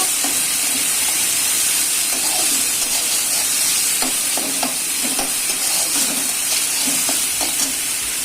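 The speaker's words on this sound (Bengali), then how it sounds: "টমেটোটা মশলার সঙ্গে দিয়ে একটু নাড়িয়ে নেব" Boiled tomato being stirred into spice paste frying in a pan, a steady close sizzle and hiss with repeated soft scraping strokes of the spoon throughout, no voices.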